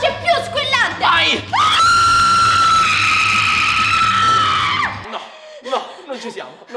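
A woman screams in a sustained, very high, piercing tone for about three seconds, trying to shatter a drinking glass with her voice, loud and close, with excited talking before and after.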